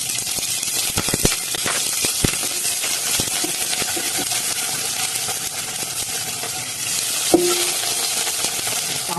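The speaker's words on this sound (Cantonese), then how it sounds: "花椒放落去" Sichuan peppercorns sizzle in a little peanut oil over low heat, a steady crackling hiss broken by sharp metallic clinks and stirring scrapes.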